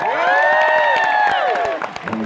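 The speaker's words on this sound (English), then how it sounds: "Applause for C." A fan convention audience at a Jeff Goldblum panel in Toronto claps steadily while loud whoops and rising, sustained cheers ring out above the clapping, then the cheering fades near the end.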